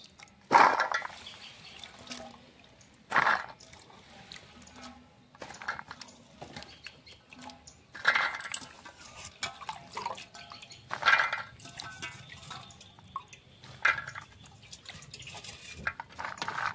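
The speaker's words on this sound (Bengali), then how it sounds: "সবজিটা কাটা হয়ে গেছে, ভালো করে ধুয়ে নেব দুবার তিনবার করে।" Cut vegetables for a beans-and-peas dish being washed in water: intermittent splashes and sloshing bursts at irregular intervals with faint dripping between, close by and moderately quiet.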